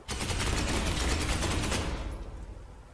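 Space Hulk Ascension weapon fire: a loud, continuous burst of rapid automatic shots lasting about two seconds, then a fading rumble; no talk.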